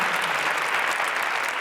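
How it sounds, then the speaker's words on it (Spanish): A studio audience on a late-night talk show with guest Bruce Dickinson bursts into applause. The clapping is a short, dense, loud burst that holds steady throughout, with no speech over it. "No entiendo el aplauso."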